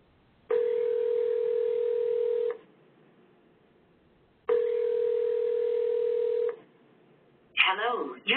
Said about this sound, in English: So here is the phone IVR self-service reset.